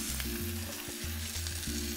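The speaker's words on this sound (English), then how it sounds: "I'm gonna saute this all together." Shrimp and vegetables sauté in a hot pan with a bright, continuous sizzle, steady and close, over a low hum, with no talking.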